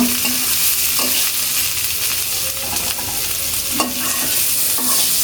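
Ginger garlic paste frying in hot oil in a pan, stirred with a utensil; a loud, steady sizzle with periodic scraping stir strokes, close up and with no talking.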